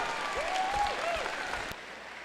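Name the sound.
applause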